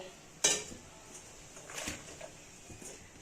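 A metal wok clanks onto a stove with one sharp knock, followed by softer scraping and a brief splash of water poured in for steaming taro stolons, all fairly quiet and close.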